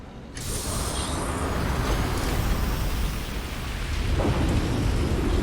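Steady heavy rain and rolling thunder in a permanent storm on Cydonia in the game Starfield, starting abruptly and holding loud and continuous with a low rumble throughout.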